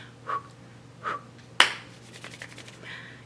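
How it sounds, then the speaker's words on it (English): Young children at a pajama storytime clap in a couple of separated bursts, followed by a sharper single clap and a few quieter scattered claps and breaths. "I need you to clap only 2 times and then stop."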